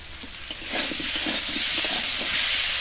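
Pumpkin and potato pieces frying with salt and turmeric in a covered pan over medium heat, a steady close sizzle with soft stirring scrapes and bumps, loud and continuous without talk.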